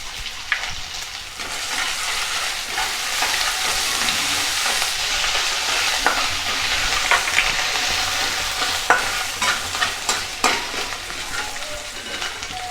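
Ginger garlic paste sizzles loudly as it fries in a pan, with steady stirring scrapes and utensil clinks throughout; a close, continuous crackle with no talking.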